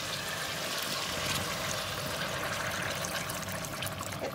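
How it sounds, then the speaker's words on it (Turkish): Water pours steadily into a cooking pot holding lamb neck and tomato paste for a pickled cabbage stew, a continuous soft rushing splash at moderate volume with no break. "Suyumu ilave edeceğim."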